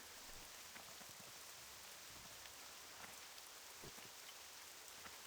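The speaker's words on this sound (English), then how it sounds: "Here comes the rain." Rain pours steadily in the video game World of Warcraft Classic, a dense even hiss of drops with occasional louder patters, continuing alone throughout.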